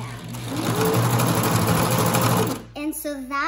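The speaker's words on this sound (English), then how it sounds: "You're gonna wanna turn your sewing machine on." A Singer 1425 sewing machine runs with its pedal pressed, a loud, steady high whirring motor for about two and a half seconds, then stops as a person begins talking.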